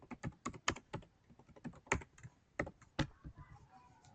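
Quick, uneven taps and clicks on a computer keyboard as a username and password are typed, close and quiet with short pauses between bursts of keystrokes, no speech.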